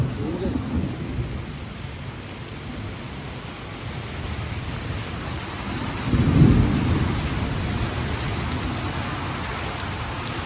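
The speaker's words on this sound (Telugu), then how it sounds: "కానీ ఇంత వర్షం వచ్చింది అయ్యా." Heavy rain pours steadily in a dense, constant hiss near Arunachalam, with a deep roll of thunder rumbling up midway through and fading back into the downpour.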